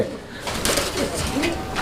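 Pigeons at a pigeon sale coo close by, a few throaty, rolling calls over a noisy background, with some talk nearby.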